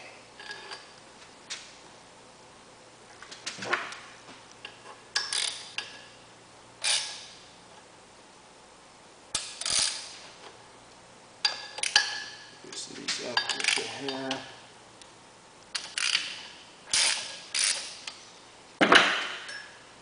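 Small metallic clicks and ticks of a threaded part being turned by hand onto an aluminum thread during an electric conversion job, irregular light taps close to the mic with brief scraping and a steady faint hum underneath.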